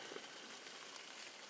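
Steady rain falls outside a tent at a solo campsite, a soft, even patter that continues without a break and stays fairly quiet and diffuse for the whole stretch.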